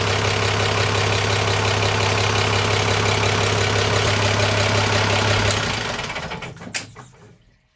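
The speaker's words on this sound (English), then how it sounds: "Is the engine working? With diesel." A diesel engine being test-run on a newly built tank mount idles with a steady, loud, even drone, then shuts down and rattles to a stop near the end.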